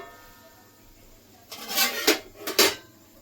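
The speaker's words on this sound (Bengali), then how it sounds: "ঢাকনা খুলে দেখে নেব" A metal lid comes off a cooking pot of boiling fish curry with a few sharp clanks and scrapes, close and clear against a quiet kitchen background.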